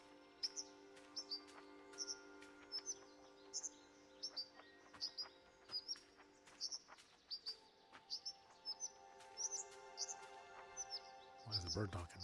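A small bird in the game Bye Sweet Carole chirps in quick, repeated high tweets throughout, faint and steady over soft background music, with a louder thump near the end.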